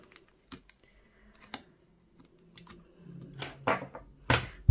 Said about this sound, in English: I apologize for the tape sounds